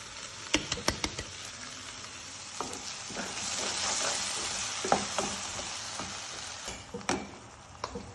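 Tomato puree hisses and sizzles in a pan with mushrooms and peas for a curry, a soft continuous frying bed broken by sharp clicks and scrapes of stirring, fairly quiet and close.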